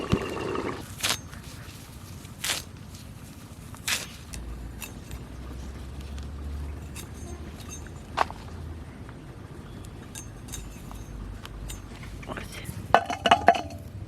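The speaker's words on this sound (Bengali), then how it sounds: "ঢাকা দিয়ে দিচ্ছি" A metal lid clinks onto a cooking pot in a home kitchen, with several sharp clanks and rattles of pots and utensils scattered over a quiet room while someone talks.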